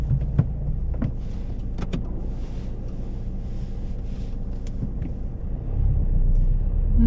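A car pulling away from the kerb on a UK practical driving test, heard from inside the cabin as a steady engine and road rumble that swells near the end as it gathers speed, with no talking.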